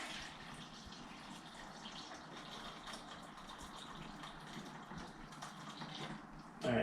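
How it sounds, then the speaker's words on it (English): Cooked broccoli water being strained in a home kitchen, a steady low rush of pouring liquid with faint background hum, ending in a brief louder splash or clatter. "Because we're going to go ahead and strain out some of this water."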